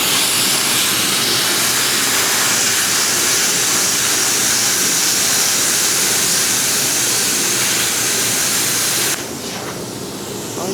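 An ARCCAPTAIN CUT55 PROLUX plasma cutter in rust removal mode sends out a loud, steady, roaring hiss for about nine seconds, then cuts off abruptly, leaving a softer background hiss.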